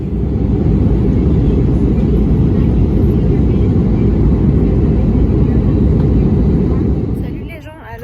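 Steady, loud engine drone fills an airplane cabin waiting before takeoff, a constant low rumble that drops away near the end.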